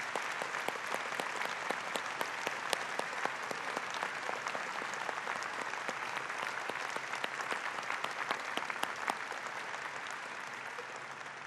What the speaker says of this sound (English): ask you to join with me in a round of applause for our general counsel at NKU, Miss Sarah Sidebottom.